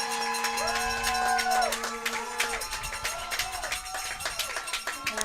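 Crowd noise from spectators at an NC State women's soccer match against Notre Dame, a steady, moderately loud hum of voices and cheering, with whistles and rising shouts near the start.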